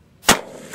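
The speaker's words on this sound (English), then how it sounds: "about to shoot his first 12-gauge jug" A single sharp 12-gauge shotgun blast fired from a Midland backpack shotgun at a jug outdoors, one loud near crack that drops quickly into a short fading tail.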